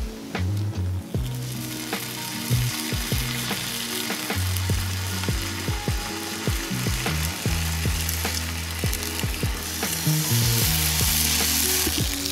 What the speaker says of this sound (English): cooking some bacon, gonna be followed by some eggs